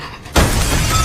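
A glass door pane is smashed in one loud, sudden shatter, followed by a bright spray of breaking glass that keeps ringing and scattering to the end.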